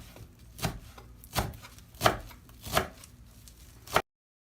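Parsley chopped finely with a knife, five distinct knife strikes on a board at roughly even intervals, close and fairly quiet, with no talking.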